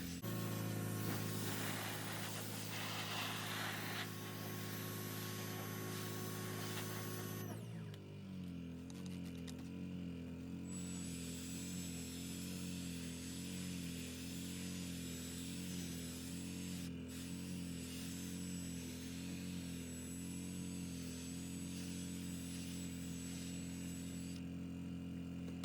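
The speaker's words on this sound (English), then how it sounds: "I'm reversing the drill brush to kind of get into the crevices in the opposite direction" A drill-driven scrub brush on car floor mats first grinds with a rough, noisy scrub, then settles into a steady humming motor buzz with soft brushing texture, running on in reverse without talk.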